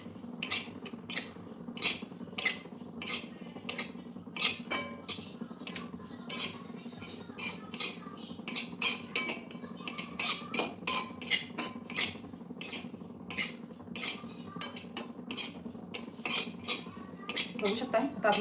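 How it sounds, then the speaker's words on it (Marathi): Dry coconut being stirred and roasted in a pan, heard as a long run of light metallic scrapes and clinks at an uneven, busy pace, close and moderately soft, with no speech. "एकसारखं असं परतून घेतल्यामुळे सगळीकडे चांगलं भाजलं जातं."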